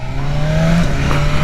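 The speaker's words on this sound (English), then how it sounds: "The quick shifter in this bike, it's super smooth." A 2023 BMW S 1000 RR superbike running steadily up close, its engine tone holding a sustained pitch with a slight drop partway through as a quick-shifter gear change goes in.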